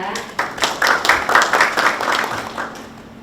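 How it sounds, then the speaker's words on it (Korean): Audience applause welcoming the Busan city council chairman to the podium at a labour survey forum, a short burst of close, loud hand clapping that swells and then tapers off over about three seconds. "모두 박수로 맞아주시기 바랍니다"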